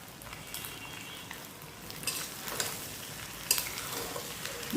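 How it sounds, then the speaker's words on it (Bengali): Macaroni being stirred with beef, coriander and spices in a frying pan, giving a steady close sizzle with scraping spoon strokes and a few sharper clinks against the pan. "ভালো করে মিক্স করে নেব ম্যাকারনির সাথে"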